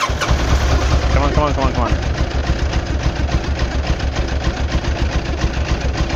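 A 1989 Kawasaki ZX-10 motorcycle engine cranks and sputters while trying to start, its choke not pulling out fully, a loud continuous churning with irregular knocking bursts, while a man urges it on throughout.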